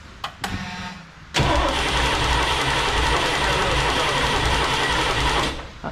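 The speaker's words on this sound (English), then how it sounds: "will the oil pressure gauge show up there if you crank over?" A Crusader 454 marine engine in a 35 ft Silverton boat cranking over, a few short clicks, then a loud steady whirring starter drone held for several seconds before cutting off abruptly.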